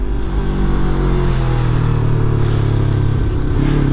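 A motorcycle engine, a 250 NK ridden in second gear, revs hard with the rear wheel spinning, a loud, steady, close mechanical roar throughout with slight pitch swells.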